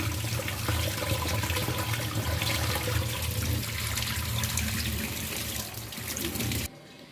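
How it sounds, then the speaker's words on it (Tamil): Running water pours and splashes steadily over Indian gooseberries (amla) in a strainer for several seconds, then cuts off near the end, leaving a quiet hum. "ஸோ நல்லா தண்ணி போட்டு நல்லா வந்து வாஷ் பண்ணிக்கலாம் நம்ம நெல்லிக்காவை"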